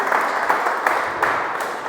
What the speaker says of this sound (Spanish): un pequeño aplauso para él